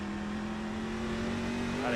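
A race truck in the iRacing simulator brakes hard on a road-course oval, its engine note holding a steady drone that drifts downward while talk runs over it.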